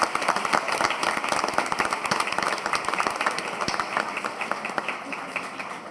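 Audience applause at an annual meeting after a performance by a music trio, a steady patter of many hands clapping at moderate distance, fairly quiet and sustained throughout.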